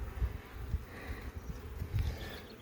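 Honey bees hum softly in an opened backyard beehive, a faint continuous buzzing with occasional low bumps of handling nearby, no voices.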